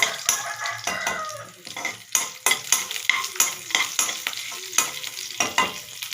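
A spoon scrapes and stirs a sizzling tempering with garlic in a pan for tomato sambar, giving a rapid run of close clattering strokes over steady frying hiss.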